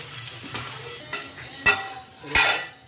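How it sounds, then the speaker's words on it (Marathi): Potato pieces frying in a pan while preparing sabudana khichdi, a close crackling sizzle broken by a few sharp clanks and scrapes of a utensil against the pan, no voices. "आता हे बटाटा फ्राय होतोय"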